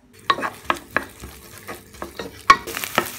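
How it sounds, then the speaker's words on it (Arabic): Onion frying in vegetable oil in a pan on a gas stove, heard as a soft steady sizzle broken by several sharp scraping stirs at irregular intervals, close and moderately loud with no talking. "بحط زيت نباتي، كمان البصلة، بقليهم مع بعض على الغاز"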